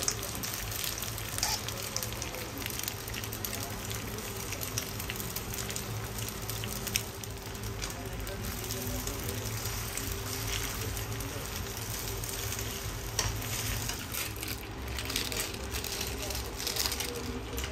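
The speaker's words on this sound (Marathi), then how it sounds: "आता आपण त्याच्यामध्ये पास्ता ऍड करतोय." Cooked pasta tipped into a pan of white sauce and stirred, a continuous soft sizzle and wet shuffling with occasional light knocks, steady and close throughout.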